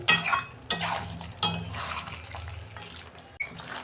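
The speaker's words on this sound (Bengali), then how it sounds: "এইতে কিন্তু আমি ঠান্ডা জল দেবো না, এতে আমি গরম জল দেবো" Hot water is poured into a pan of simmering Bihari-style chicken curry, making several splashing, hissing bursts close by, each fading quickly before the next.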